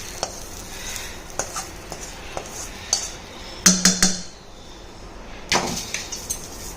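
Spices being stirred into yogurt for dahi sabzi, heard as close scraping and clinking of a spoon against the bowl in short bursts, with a couple of sharper knocks.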